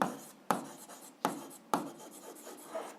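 A pen writes on paper during an algebra lesson: a few close, quiet strokes with sharp starts, each scratching briefly before fading, and no talk.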